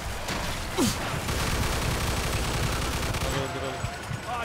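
Sustained machine gun fire rattles in rapid bursts during a Mafia 2 shootout, loud and continuous with scattered extra gunshots, while a voice shouts briefly over the firing.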